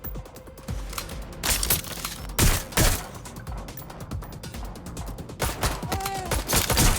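Dense, continuous gunfire in the video game Watch Dogs Legion, with rapid overlapping shots and cracks filling the scene at fairly close range, with a few brief voice sounds mixed in.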